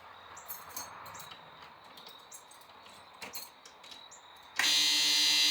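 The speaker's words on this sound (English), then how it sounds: "The reason the buzzer is going off is because the back door's open." Faint intermittent beeps and chirps over quiet background, then a loud continuous Chevrolet diesel school bus buzzer, warning that the back door is open, abruptly starts and sounds steadily to the end.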